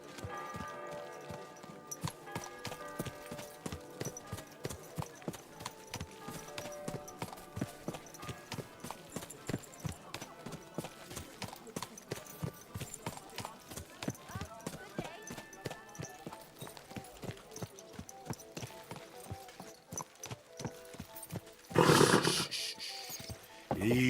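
Horse hooves clip-clop in steady, regular rhythm across nearly the whole stretch in Kingdom Come 2, close and moderately loud, with game ambience and a brief louder burst of other noise near the end.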